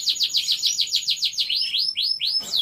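Caged F1 songbirds at a bird breeder's chirp in quick, repeated high sweeping notes, a steady run of loud, close calls with no talking.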